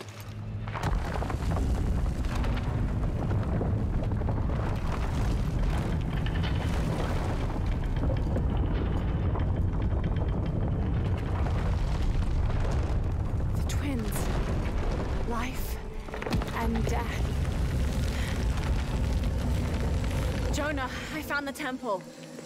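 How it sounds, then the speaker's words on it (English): Deep rumbling blasts and booms in Shadow of the Tomb Raider as attackers blast their way into a building, a dense, loud barrage that rolls on without letup before easing near the end, with voices partly over it. "trying to blast their way in"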